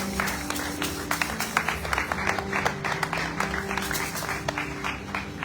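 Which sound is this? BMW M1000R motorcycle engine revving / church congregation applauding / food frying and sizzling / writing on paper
church congregation applauding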